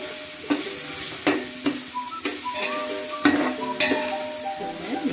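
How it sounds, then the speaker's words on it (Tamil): Large onions sautéing in a pan on a three-quarter flame for mutton dum biryani, a close, steady sizzle broken by repeated scrapes and taps of a stirring spoon. "பெரிய வெங்காயத்தை அப்படியே வதக்கணும்"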